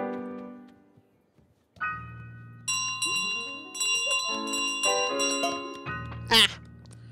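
Bell ringing in Untitled Goose Game, a bright struck tone with ringing overtones rising over game music near the end, with a person talking across the clip.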